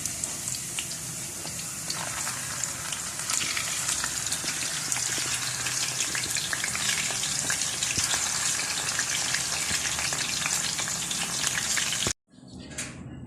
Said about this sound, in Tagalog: Pag na-prepare na po lahat ang ating mga sangkap ay pwede na po tayo manggisa.